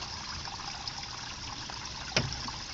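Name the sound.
water dripping from a tarp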